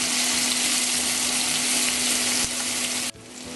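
Onion sautéing for ginisang Baguio beans with pork, a loud continuous close sizzle with a steady hum underneath, dropping off abruptly near the end.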